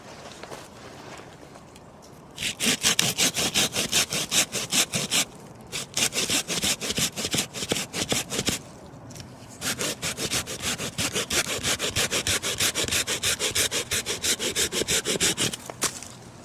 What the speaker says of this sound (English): I found this and I thought this would be a good thing to demonstrate. So we're just going to cut through it now